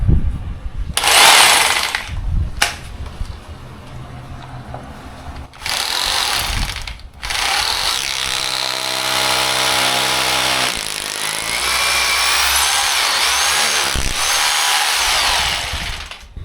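A hammer drill with a short Bosch bit bores into a concrete wall in loud, harsh bursts. Two short runs are separated by pauses, then a long continuous grinding stretch follows, with a brief break near the end.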